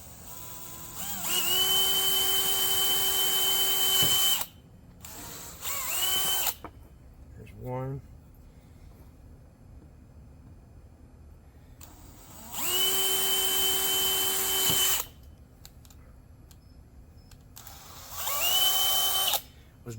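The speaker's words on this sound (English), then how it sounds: "I got to grab a drill." Power drill whirring in several bursts while drilling holes to build a custom flounder light, each run steady and loud with short pauses between; someone speaks briefly between bursts.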